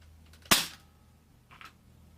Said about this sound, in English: I'll shoot myself in the hand right now.